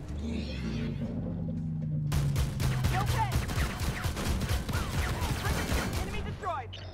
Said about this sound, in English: All those shots bounced off, and the kill shot bounced through the armor